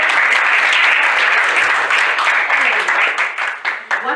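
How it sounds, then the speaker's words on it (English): A small group in a discussion session claps together in a steady, close burst of applause that fades unevenly over the last second, with a voice talking briefly underneath. "Clap, give them a clap."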